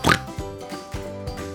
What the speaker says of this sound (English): That's right, it's a pig.